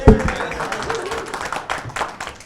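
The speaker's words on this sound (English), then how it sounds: "We give ourselves a round of applause" Panel audience at a small-state survival discussion giving themselves a round of applause, a short loose patter of clapping from a modest group, fairly near, fading slightly toward the end.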